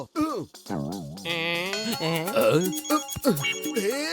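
A cartoon telephone ringtone in a Motu Patlu episode, a bright electronic jingling melody that plays steadily for several seconds, with cartoon characters talking briefly around it.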